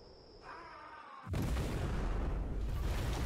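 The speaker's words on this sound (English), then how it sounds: "every explosion in this chain has a chance to trigger another explosion" Rapid chain of rocket explosions from the shooter game Roboquest erupts after a quieter lead-in, a loud, dense rumbling blast that sustains with crackling bursts to the end.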